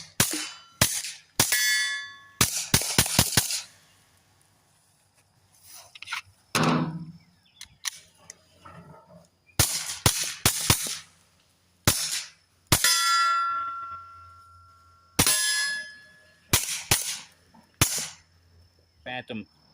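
Suppressed Kel-Tec P17 firing .22 Remington subsonic rounds through a Yankee Hill Phantom, shot into dirt and onto a steel target: a series of sharp, clipped pops in small bursts, some followed by bright metallic rings, with quiet gaps between groups.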